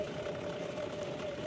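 A John Deere tractor engine runs steadily on a rough village road, a faint continuous drone with a constant hum and no other sounds over it.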